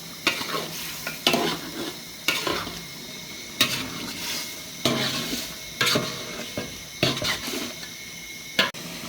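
Spices being sautéed in a pan for chicken khichuri: a steady close sizzle with repeated scraping stirs at a regular pace, utensil knocks against the pan, no talk.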